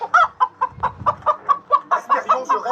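A hen clucks in a rapid, regular series of about a dozen short, loud, close calls, with no voices over it.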